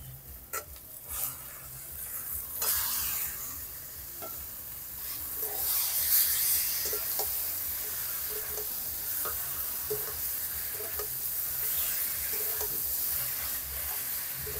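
Mutton pieces frying in oily masala inside a clay pot, with a steady close sizzle and occasional scraping stirs over a continuous hiss.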